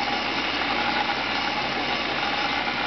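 A CNC coil winder built from leftover parts runs its spindle too fast while winding wire, giving a steady, close mechanical whir and hum with no voices over it.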